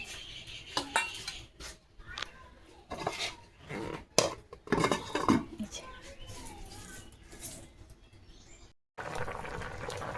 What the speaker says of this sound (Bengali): একটু লবণ দিয়ে একটু নাড়িয়ে ছাড়িয়ে এবার দেবো ঢেকে।